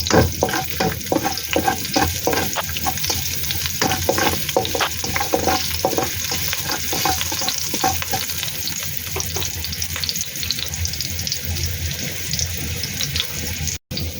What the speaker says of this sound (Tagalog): mag-fry na tayo, gisa na natin, okay?